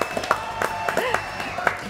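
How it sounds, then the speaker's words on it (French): Studio audience applause on a French TV comedy show, brief and moderately loud, with scattered claps and a voice speaking over it. "Applaudissements pour Véronica."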